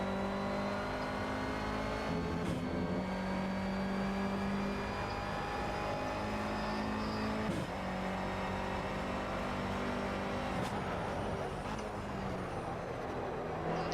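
Renault Clio Cup race car in the game Project Cars at Donington, its engine revving high and climbing through the gears in steady rising pulls, each shift marked by a brief dip, loud and alone without talk.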